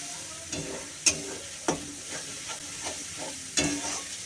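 Rice with turmeric and cumin powder is stirred in a frying pan over a quiet, steady sizzle, with a spoon scraping the pan in several distinct strokes.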